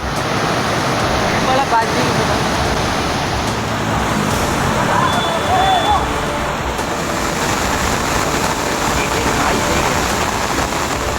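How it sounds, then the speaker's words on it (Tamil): Flash floodwater pours through roads and into homes after heavy rain near Dharmapuri, a loud, steady broadband roar of rushing water that continues unbroken for the whole stretch. "கரைபுரண்டு ஓடிய வெள்ளம் ஊருக்குள் புகுந்த நிலையில் சாலைகளில் தண்ணீர் பெருக்கெடுத்து ஓடியது"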